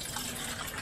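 Coolant gushing out of a Land Rover Discovery 4 SDV6 once the cap is opened, a steady close-up wash of liquid splashing without pause and no talking.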